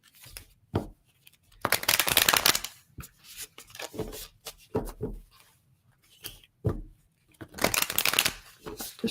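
Playing cards shuffled by hand in a quiet room, several bursts of riffling and bridging with soft handling sounds between, close and clear with no talk.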